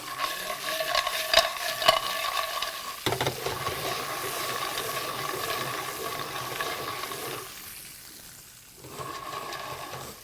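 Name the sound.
clams sautéing in a pan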